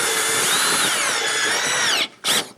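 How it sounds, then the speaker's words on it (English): A power drill drives 1 5/8-inch screws to fasten glued wooden panels of a kitchen island, its motor whining steadily with the pitch shifting under load, then stopping and giving one short second burst. "I'm going to line it up and attach everything with some 1 5/8" screws."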